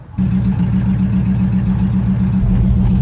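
A 1959 Edsel Corsair barn find, on the road at night after sitting 50 years, its engine a loud, steady low rumble starting abruptly and holding an even drone throughout.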